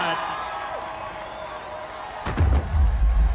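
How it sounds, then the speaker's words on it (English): Rodeo crowd at the finals roars and claps for the bullfighters, a steady broad wash of cheering and applause that swells louder near the end, with thumping low impacts over it. "How about a round of applause for those bullfighters, ladies and gentlemen, on the spot."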